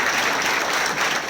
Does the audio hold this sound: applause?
yes